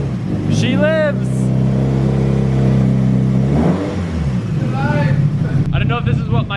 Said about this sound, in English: I don't know if this is what my cams are supposed to sound like and they never did, or if this is just a bad idle, but it sounds cool.